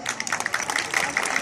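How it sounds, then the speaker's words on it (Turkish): Applause at an engagement celebration, a brief burst of dense, fairly quiet clapping from a group of guests, steady and continuous with individual claps flickering through. "bana eşlik eden kardeşlerime alkış istiyorum"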